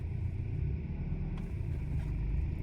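A Volkswagen Passat B6 in freezing weather, in drive with the handbrake stuck, has its gas pressed. A low, steady engine rumble holds close by with a slight lift, and no voices are heard.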